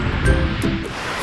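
Storm-driven surf washes and rumbles along a beach during Storm Francis, a brief, steady broadband roar with a swell in the middle, mixed with wind buffeting the microphone.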